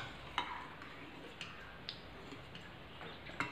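Turmeric being stirred into dal tadka, with a spoon clinking faintly against the pot several times at irregular intervals over a quiet background hiss.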